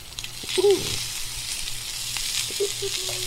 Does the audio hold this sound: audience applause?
no